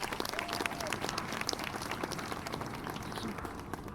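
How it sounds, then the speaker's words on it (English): A jazz concert audience claps for a flute player being introduced on stage, a short burst of scattered, mid-sized applause lasting a few seconds, with some murmured talk mixed in. "please give her a round of applause."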